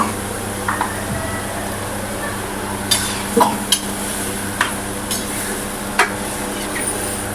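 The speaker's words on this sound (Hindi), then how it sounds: "सारी सब्जी इसमें डाल दीजिए" Potato and eggplant pieces, added to onion, tomato, green chili and spices, sizzle in a pan under a steady frying hiss, with a series of sharp scraping clinks as a spoon stirs them at close range.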